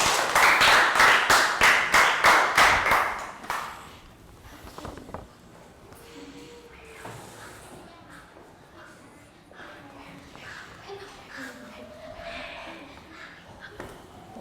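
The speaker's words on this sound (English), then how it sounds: "Round of applause for Bangpon." Children in a classroom clap together in a quick rhythmic round of applause lasting a few seconds. It then fades into quieter room sounds and a voice speaking.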